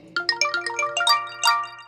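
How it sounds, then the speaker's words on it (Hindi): A mobile phone rings with a melodic ringtone, a quick run of bright chiming tones that steps along and then rises. The ringing sounds clean and fairly loud, with no voices over it. "तभी अचानक दूर पड़े हुए मेरे फोन की रिंग बजती है।"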